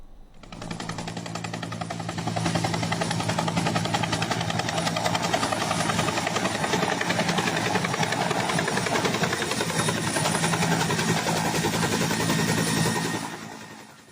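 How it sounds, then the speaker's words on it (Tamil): A Bell 212 helicopter on a rescue mission during heavy rain in Chennai produces a loud, continuous rotor chop with a steady engine whine that swells in and then cuts off near the end. "பெல் 212 என்ற ஹெலிகாப்டர் மீட்புப் பணிகளில் ஈடுபட்டுக் கொண்டு இருந்தது."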